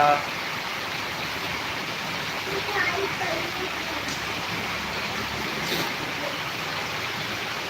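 Heavy rain pours down during a downpour in Karnataka, a dense, steady hiss that fills the whole scene without letting up, with a voice briefly heard over it.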